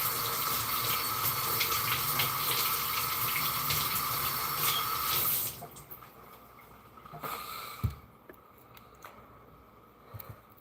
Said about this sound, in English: Gonna have to rinse these onions off.